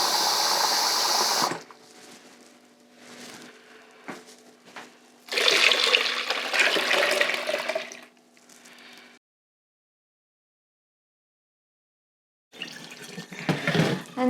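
Water poured into a jar for horchata, a splashing gush in several bursts separated by quieter trickles, ending in a stretch of silence before another pour.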